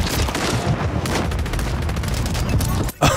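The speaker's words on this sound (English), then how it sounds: "I've been tapping the trigger like I'm in single fire" In Call of Duty, a gun on single fire cracks out shots in quick, tightly packed bursts that sound loud and near, with a brief gap near the end and some speech mixed in.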